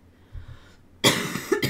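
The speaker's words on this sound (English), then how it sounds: "Sorry for the coughing." A single harsh, close cough bursts out after a quiet breath, followed by a shorter second cough.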